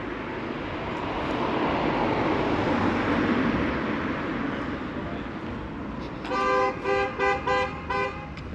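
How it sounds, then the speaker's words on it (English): A car horn beeps several times in a short pulsing run beside a big car park near a former MOD bunker, after a stretch of wind and traffic rumble, fairly close and loud. "Who's he beeping at?"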